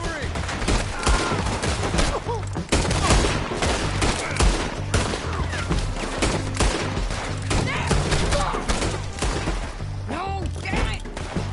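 Heavy gunfire and artillery in a Red Dead Redemption 2 battle, dense overlapping shots and booming blasts that run loud and unbroken, with shouting voices mixed into the din.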